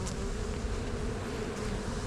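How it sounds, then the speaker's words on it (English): Honey bees from a package being installed into a hive buzz in a dense, steady drone that holds without a break from start to finish, close and continuous. "you see that mass of bees moving down in there"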